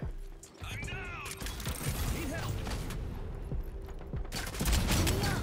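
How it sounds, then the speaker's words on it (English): Pump-action shotgun blasts in the Rogue Company shooter game, a few loud sharp bursts amid chaotic gameplay effects and a player's voice talking over the action. "I wanna see how raw this shotty is with the pump"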